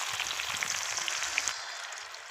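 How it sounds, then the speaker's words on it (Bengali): Onion and garlic sizzle and crackle steadily in hot oil in a pan while chicken curry is being cooked, a dense close frying hiss with small pops, quieter near the end. "এখন পেঁয়াজ ছাড়া হচ্ছে, পেঁয়াজ রসুন ফ্রাই করা হবে"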